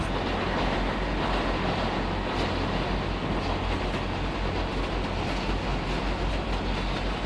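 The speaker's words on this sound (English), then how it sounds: "That's the 4 train." A New York subway 4 train passing near 161st Street–Yankee Stadium, a loud, steady rumble and roar of rail cars holding constant throughout.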